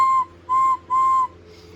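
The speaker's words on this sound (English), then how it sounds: "Then he heard Rosie's whistle coming from the track below." A steam locomotive whistle in an animated railway show blows three clear, steady toots in quick succession, the last two longer, loud and alone over a low background hum.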